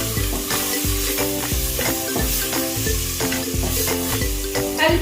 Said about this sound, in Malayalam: ഒരിക്കലും പൊടികൾ കരിയാതെ നമുക്ക് ഇളക്കി നല്ല രീതിയിൽ കൊടുക്കാം.